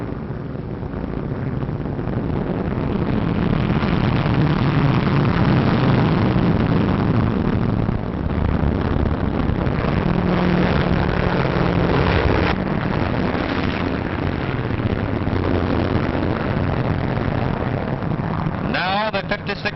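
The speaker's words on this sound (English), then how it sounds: "And now a group of lightnings land." WW2 P-38 Lightning aircraft coming in to land, a continuous broad engine roar with wind rush, loud and sustained throughout, with a narrator speaking over it.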